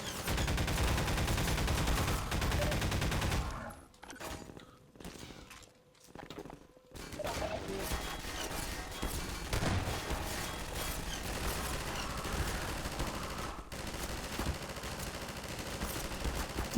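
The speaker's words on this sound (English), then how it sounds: "Who else is shooting me?" Gunfire in Half-Life, a dense loud burst of shots for several seconds, a brief lull, then continued rapid shooting and battle noise throughout, near and sustained.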